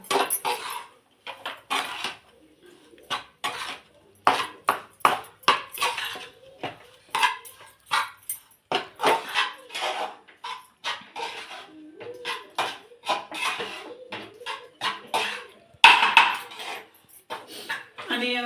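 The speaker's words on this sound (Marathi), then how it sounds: "लगेच ही चटणी वतून घेऊया नाही तर चटणी आपली ती जळून जाईल आणि असं छान मिक्स करून घेऊया" Chutney being stirred and roasted in a pan, a spoon scraping and clinking against metal in quick irregular bursts, loud and close, with a few brief gaps between strokes.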